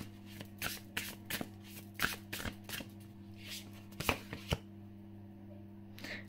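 Tarot cards being shuffled and laid out by hand, a series of soft riffling flicks and light taps at an uneven pace, close and fairly quiet with a faint steady hum beneath and no talking.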